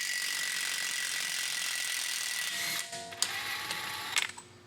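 A hand ratchet clicks steadily while loosening the CV axle nut on a 2004–2009 Lexus RX350, a close continuous pawl whirr that slows into a few separate clicks and clunks at the end.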